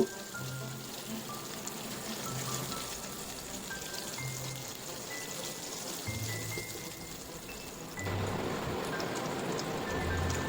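Cumin seeds, bay leaf and dried red chilli fry in hot oil, a continuous crackling sizzle with scattered pops that swells louder near the end, with no voices.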